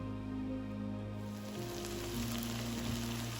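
Chicken curry sizzles and crackles steadily in hot oil, a continuous frying hiss with a low hum underneath.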